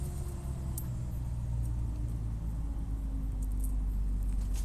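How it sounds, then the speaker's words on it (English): A garbage truck idles and rumbles outdoors on a rural property, a steady deep engine drone with faint metallic clinks and taps above it, moderately distant. "Oh, the garbage truck is here. You guys get to hear the garbage truck."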